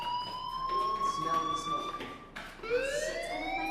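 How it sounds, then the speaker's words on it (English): In the video game Life is Strange, a fire alarm rings steadily with a high, electronic tone. It pauses briefly, then starts again, and its pitch slides upward each time it starts, sounding moderately loud and continuous. "do you hear that fire alarm?"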